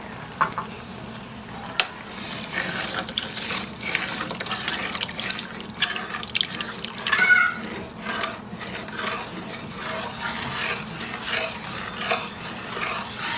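Blood poured into a cooking pot of meat and stirred makes a continuous wet, swishing and scraping sound, moderately close, with uneven bursts of liquid movement throughout.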